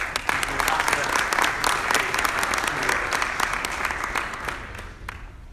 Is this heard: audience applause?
yes